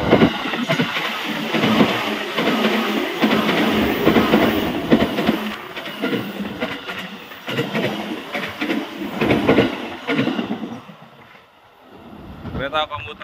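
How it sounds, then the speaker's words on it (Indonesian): A CC206 locomotive rushes past at speed with a loud, continuous roar and rattling wheels, fading toward the end as it moves away. "Lokomotif CC206 melintas agak ngebut."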